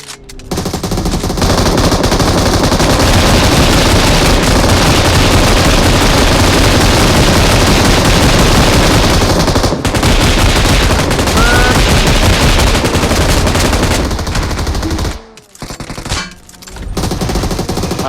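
Gunfire in the PUBG Mobile video game, long loud sustained bursts of rapid automatic fire nearly without pause, briefly dropping out near the end before another short volley.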